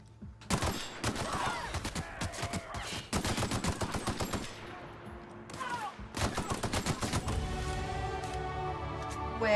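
Gunfire in the video game The Outer Worlds comes in rapid automatic bursts of sharp shots, several volleys split by short pauses and followed by a ringing, echoing tail, loud and close.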